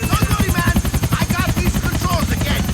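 A video game helicopter hovers just a few metres overhead, its rotor chopping in a fast, even, heavy pulse, loud and close throughout, with faint voice-like tones drifting over it.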